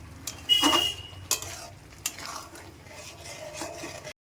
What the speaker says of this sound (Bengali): এবার আমি পনিরগুলো দিয়ে দিচ্ছি এখানে আমি চারশো গ্রাম পনির নিয়েছি